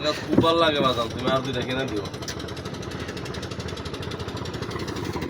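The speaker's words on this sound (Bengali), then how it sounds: "এই যে বড় বড় ইঞ্জিন জাহাজ," A large ship's engine runs with a steady low rhythmic thrumming chug, heard beneath a voice at first and then continuing alone.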